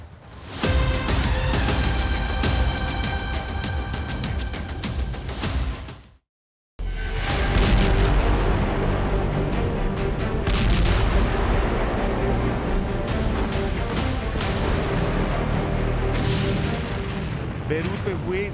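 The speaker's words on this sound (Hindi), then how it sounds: "बेरूत में हुए इस धमाके ने पूरे वॉर जोन की तस्वीर बदल दी है" A bomb blast in Beirut during the Israel–Lebanon war, heard as loud, dense booming and crackling roars that continue almost without pause, with a brief silent break partway through and distant voices under the din.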